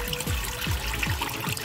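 Motor oil drains from a 2012 GMC Sierra into a pan, a near, soft trickling pour with a few rhythmic splashy gurgles repeating about every half second.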